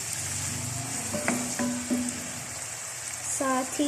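Onions frying in a cooking pan, a steady close sizzle with a few brief stirring clinks, heard alone.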